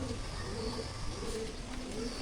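Pigeons coo softly in a loft housing around a hundred birds, their low repeated calls faint under steady background noise.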